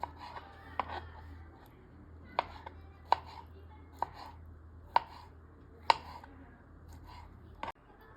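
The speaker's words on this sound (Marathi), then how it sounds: "आणि असं आपल्याला कट करायचे आहेत मशरूम." A knife chops through mushrooms on a cutting board for a mushroom bhaji, giving sharp, separate taps at an uneven pace of roughly one per second over a low steady hum.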